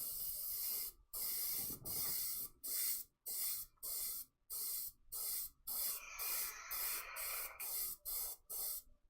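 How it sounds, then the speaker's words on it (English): A spray can hisses over a wood-turned piece in about a dozen short, even bursts separated by brief pauses, close and fairly quiet. "But I've sprayed it a little bit too much."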